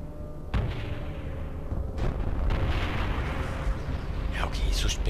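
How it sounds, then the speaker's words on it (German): Ship explosions in the space game EVE Online, deep rumbling booms and bursts layered over continuous low engine drone, with a sharper crackling hit near the end. "Ja, okay, so spektakulär sind die Explosionen jetzt nicht."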